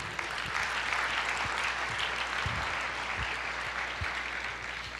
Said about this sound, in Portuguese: Glória a Deus, aplauda o Senhor